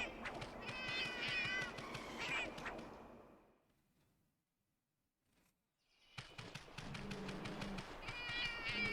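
A cat in a video game meows in short repeated calls, one burst, a pause of near silence, then another run of meows.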